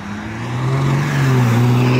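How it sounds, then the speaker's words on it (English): Diesel BMW 3 Series driving into a cars-and-coffee meet, a steady low engine drone that swells slightly as it rolls nearer, with no talk. "And another diesel 3 series, I love it."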